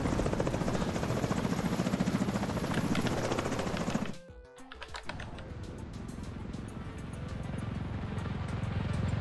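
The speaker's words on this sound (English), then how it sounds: "Chopper, where are you, Chopper?" Helicopter in The Division 2 whirs steadily with rotor chop, close and loud, then drops briefly and carries on more faintly beneath keyboard typing, with no one talking.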